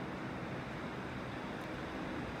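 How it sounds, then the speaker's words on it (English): Ocean waves wash in on a beach in North Naples, Florida, as a steady, even hiss of surf with a faint wind rush and no distinct breaks or voices. "really like the sun and the waves washing in"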